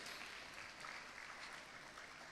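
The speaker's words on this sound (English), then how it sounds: "another round of applause for our films in the mini documentary segment" A film festival audience at Northern Caribbean University claps in a steady, dense wash of applause, faint and distant, with no speech over it.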